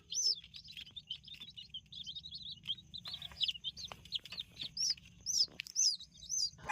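Two-day-old chicks in a brooder warmed by a 25-watt lamp, chirping in high, rapid peeps that come close and fairly steady, with brighter single calls standing out near the end.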